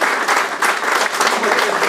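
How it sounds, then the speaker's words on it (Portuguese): Dense, steady applause from an audience at a Portuguese poetry event, a close continuous wash of clapping hands lasting throughout with no voice over it. "Temos que celebrar com toda coisa e uma grande salva de palmas"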